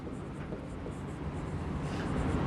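Marker or chalk strokes on a board during a biology lecture, a steady, faint scratching of continuous writing close by, with no talk over it.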